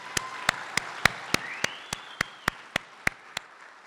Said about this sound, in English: Round of applause for Kenton.